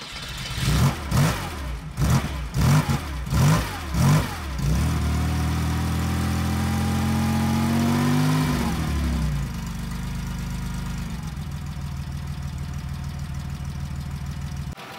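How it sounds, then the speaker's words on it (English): A 1970 Porsche 911 T's air-cooled boxer flat engine cranks over with several rhythmic starter pulses, catches and revs up, then settles into a steady loud idle close by, with no talk. "I just love this typical Porsche sound of the boxer flat engine."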